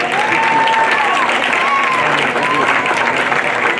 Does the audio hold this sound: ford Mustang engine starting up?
no